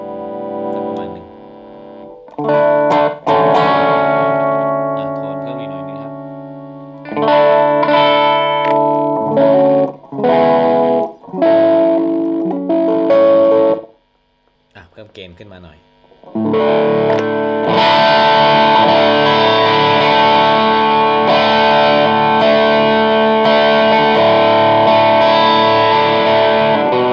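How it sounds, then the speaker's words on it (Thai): Electric guitar played through a NUX TC Overdrive effect pedal set to low gain, strummed chords and short riffs with pauses, then a sustained full, bright overdriven passage, loud and alone. "สำหรับเสียงของเจ้าตัว TC Overdrive นะครับ"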